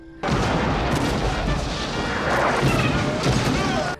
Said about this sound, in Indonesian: Ketika Robert kasih komando serang, meriam itu pun kemudian mereka tembakan